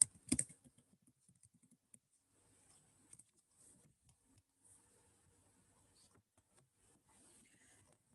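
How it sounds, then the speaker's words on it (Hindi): Sparse, faint keystrokes on a computer keyboard, a few scattered clicks with one louder burst near the start, then quiet tapping fading out against near silence. "I am typing."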